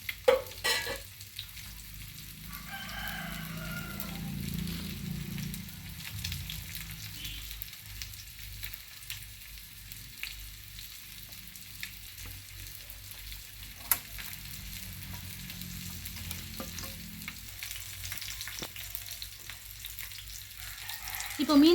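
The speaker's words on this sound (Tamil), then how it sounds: "இப்போ நம்ம மீனை சேர்த்துடலாம்." Fish curry bubbling and sizzling in a pan just after pieces of fish are added, a soft continuous simmer with occasional stirring clinks, fairly quiet and without talk.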